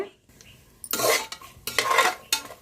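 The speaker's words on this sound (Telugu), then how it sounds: "మసాలాలు ఎగుతున్నాయి కదండి" Whole spices including bay leaf, cumin, fennel and stone flower fry in a pot for tomato rice, heard as bursts of loud crackling sizzle broken by short pauses and stirring clatter, with no voices.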